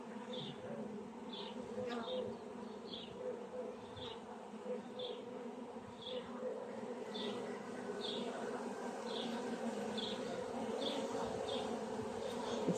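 Newly hatched queen honeybees buzzing inside a hive frame, a steady low drone with a series of short, evenly spaced high piping pulses repeating throughout, fairly quiet and close.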